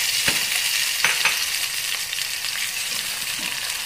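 Tomatoes cooking in hot oil for Tamil sambar, a steady close sizzle and frying hiss with a few sharp stirring clicks from a utensil.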